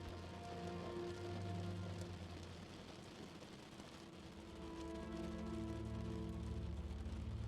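Gentle rain patters steadily on a surface in a soft continuous wash of droplets, holding at an even, quiet level with a faint low hum beneath.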